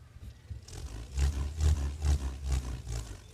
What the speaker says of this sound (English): So it's important that when you go to do your Purerehua, you give it a spin up first